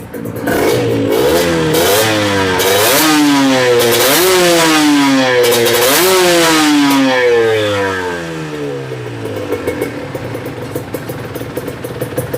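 A two-stroke FSX150 motorcycle with a worn, knocking connecting rod revs hard close up, its engine repeatedly rising and falling in long blips before settling to a rough, crackling idle.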